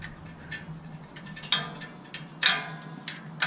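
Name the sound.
tightening screws on a Can-Am X3 in crisscross pattern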